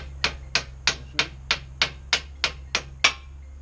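A hammer strikes metal while a log grapple is forged, ten sharp, evenly spaced clanks ringing close over a low steady hum.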